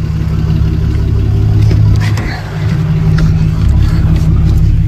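A car engine drones steadily from inside the vehicle on a long winter highway drive past snow banks, a loud, constant low rumble with a brief dip in the middle and no speech.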